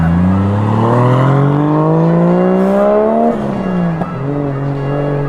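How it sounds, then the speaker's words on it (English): A car engine revs hard, pitch climbing steadily, dropping sharply, then rising again in a loud, close, sustained drone. "That car sounds fine."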